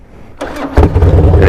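A Harley-Davidson Dyna motorcycle engine cranks briefly, then catches and bursts into a loud, rumbling idle right up close.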